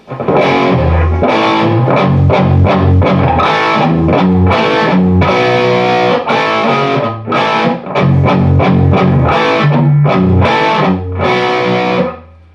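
Distorted electric guitar plays four punchy repeated hits and a quick lick from a song, loud and continuous throughout, with no talking.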